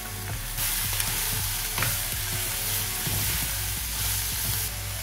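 Mushrooms and corn frying in a pan give a steady close sizzle with scattered stirring scrapes, a low background hum underneath and no talking.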